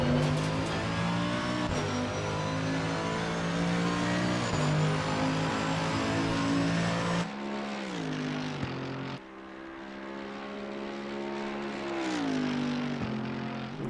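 A Mercedes-AMG GT3 race car in Assetto Corsa Competizione at Paul Ricard screams at high revs, then drops through downshifts under hard braking into second gear, the engine note stepping down and rising again.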